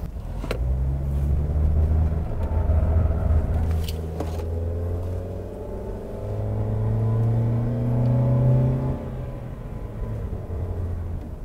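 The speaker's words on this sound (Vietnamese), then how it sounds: "Bây giờ thì có lẽ tôi sẽ tăng tốc cái mẫu Toyota Rush này lên một chút." A Toyota Rush SUV with a 1.5 litre, 104 horsepower engine accelerates, its engine drone climbing steadily in pitch and loudness under a constant rumble of road noise.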